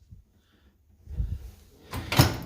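A kitchen drawer in a state park lake cabin slides and thumps, with soft rumbles followed by a louder, sharper knock as it shuts, close by in a quiet room.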